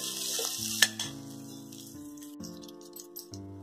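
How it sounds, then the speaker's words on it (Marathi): Cumin seeds fry in hot oil with a steady soft sizzle, accompanied by faint utensil clinks and a low hum in the background. "थोडं जिरं, तेलात शिजू देते।"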